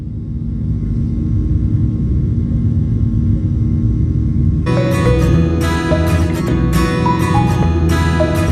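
Passenger airplane taking off at sunrise, heard from inside the cabin: a steady loud engine rumble that swells into a stronger, broader roar partway through, with rattling cabin noise.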